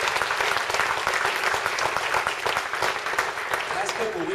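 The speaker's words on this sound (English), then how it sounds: "let's have another round of applause for Val and everyone at Damietta who put this event together" Audience applause at a community event honoring its organizers, a dense, steady clapping that fills the whole stretch at close range, with a few voices mixed in beneath it.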